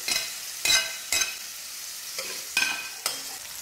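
Onion and garlic frying in margarine with spices in a pan, a quiet sizzle broken by about six short scraping stirs spaced through the clip, with no talk.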